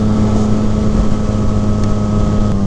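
A 2019 Yamaha MT-09 fitted with an M4 carbon slip-on exhaust runs with a loud, steady engine drone and a low throbbing exhaust note that holds even throughout, with no voices.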